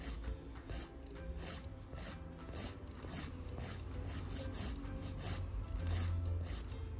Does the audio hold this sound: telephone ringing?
no